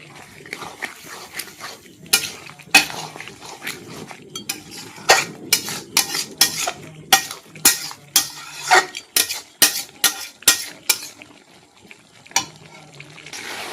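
Chicken in a pot being mixed with turmeric for a curry, with a spoon scraping and clinking against the metal in a quick, irregular run of sharp strokes. Soft frying sizzle sits underneath and nobody speaks.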